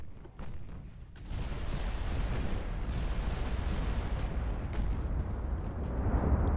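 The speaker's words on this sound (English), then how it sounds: "Majestic firing at the Kaiser Wilhelm in the turn." Battleship main guns firing in the naval game Ultimate Admiral Dreadnoughts, the Majestic shooting at the Kaiser Wilhelm during a turn; a brief lull gives way to a heavy, sustained rolling boom and rumble that stays loud to the end.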